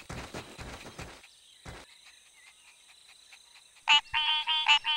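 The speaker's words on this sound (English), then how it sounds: "You found the tree frog" Tree frog calls in an animated wildlife ranger show, a few rattling croaks at first, then high, ringing chirped notes near the end, alone with no talk.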